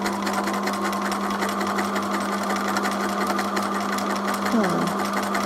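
A sewing machine with loose lower bobbin tension runs steadily, stitching shapes in a fast, even mechanical hum with rapid needle rattle, loud and close, without pause.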